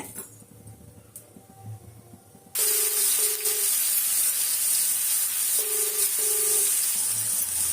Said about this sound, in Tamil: ரெண்டு சோம்பு, பட்டை, ஒரு இலை மட்டும் போட்டிருக்கிறேன்